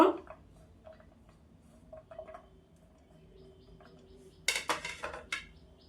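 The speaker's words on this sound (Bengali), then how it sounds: "এইভাবে কুচি কুচি করে কেটে নিব" Fresh ginger is chopped into small pieces with a knife on a board: a few light, scattered taps at first, then a quick run of sharper, louder chopping strokes near the end.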